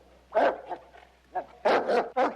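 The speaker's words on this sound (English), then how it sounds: "Come on, little dog." A small dog barks in several sharp bursts, two close together early and a quick run of three near the end, heard close and fairly loud in a quiet interior scene.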